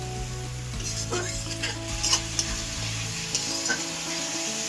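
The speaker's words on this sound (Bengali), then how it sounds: "আমি সামান্য একটু জল দেবো ভালো করে মশলাটাকে আমি ভেজে নেব" Spice paste frying in a pan with a little water, a steady hiss and sizzle under repeated stirring scrapes and a few light clinks of the spoon against metal.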